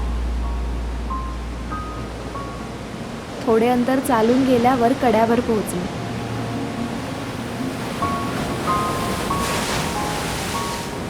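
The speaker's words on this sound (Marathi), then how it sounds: "तिथून चालताना समुद्राच्या लाटांच्या गर्जना कानी पडू लागल्या" Sea waves roar steadily against a cliff at Suvarnakada near Devli village on the monsoon Konkan coast, a broad wash of surf running under a person talking nearby.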